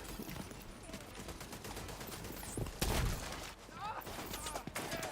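SMG bursts from the shooter game The Division 2, rapid gunfire and sharp impacts in a busy mix with other game effects, while someone talks over the action.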